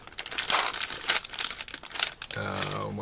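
A plastic parts bag from a Linoos Snoopy spacecraft building set crinkles and rustles in close, uneven bursts as it is pulled open, ending with a short voiced sound.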